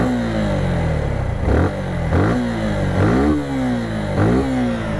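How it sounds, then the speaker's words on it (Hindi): A Suzuki Gixxer 150 BT motorcycle with dual exhaust tips idles and is blipped four times, each rev rising sharply and then settling back to a fairly quiet, even idle, heard close up with no talk. "आपको हल्का सा जो एग्जॉस्ट नोट है वो सुना देते हैं।"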